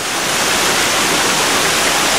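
A 50 ft waterfall heard up close as a loud, continuous, dense roar of falling water with no pauses or other sounds.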